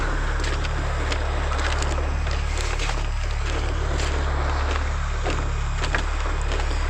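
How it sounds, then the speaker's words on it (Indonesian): Ocean waves roll in at a beach campsite, making a loud, continuous roar that surges as the swells build, heard close with no talking. "Suasananya ya, ombaknya semakin besar ya."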